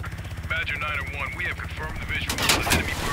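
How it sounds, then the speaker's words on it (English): Gunfire in the video game Call of Duty Black Ops Cold War, loud bursts of shots near the end over a steady engine-like drone, with tonal game sounds and effects earlier. "He's shooting at me."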